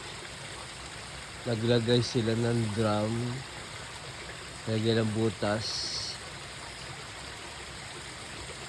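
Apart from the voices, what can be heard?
water flowing from mountain spring through drum and hose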